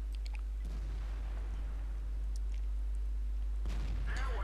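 Tank cannon fire in World of Tanks from an M46 Patton battle, a heavy boom near the start and another louder blast near the end over a constant low engine rumble.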